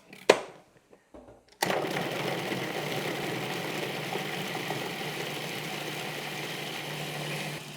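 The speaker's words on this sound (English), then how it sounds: "Grind the chilies until finely chopped. Scrape down the food processor once, at least once." A food processor grinding chilies for chili garlic sauce: a few light clunks, then the motor starts and runs as a steady, close whirring drone to the end.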